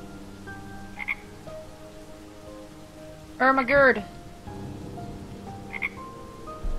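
A toad in the Noir Chronicles: City of Crime video game croaks loudly in one rattling burst over a steady backdrop of rain, with two faint chirps nearby and a person speaking briefly.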